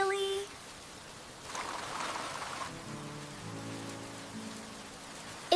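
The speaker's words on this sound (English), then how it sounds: "Wait until the rain stops." Steady rain falls throughout, a soft continuous hiss that swells for about a second in the middle, with faint background music or tones underneath.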